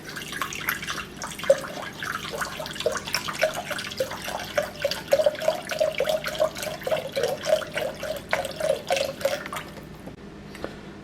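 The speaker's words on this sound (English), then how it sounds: "Put the beans in a colander here, and I'm going to just rinse them off real good." Navy beans rinsed in a colander under a running kitchen tap, a steady close splashing and trickling of water that continues for about ten seconds before easing off at the end.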